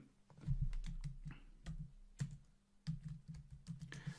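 Quiet bursts of typing on a computer keyboard, irregular clusters of soft key taps with short pauses between, close and alone with no talking.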